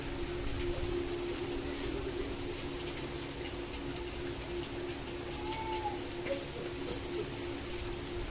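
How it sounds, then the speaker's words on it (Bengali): Steady rain falls with spray blowing in, a constant dense patter and hiss on nearby surfaces, moderately quiet and unbroken, with no one speaking. "কতক্ষণ হবে বৃষ্টি কে জানে।"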